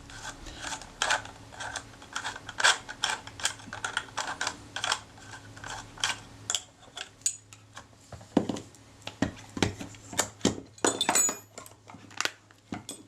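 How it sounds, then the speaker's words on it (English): Small metal clicks, taps and scrapes come close and quiet in irregular bursts as the lens and shutter assembly is worked out of a Kodak Retina II type 122 camera. "I'll remove the lens and shutter assembly and tighten up the shutter release arm"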